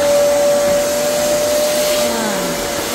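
A vacuum cleaner runs on carpet in a home, with a loud, steady close-up roar and a high whine that shifts in pitch near the end as the nozzle moves.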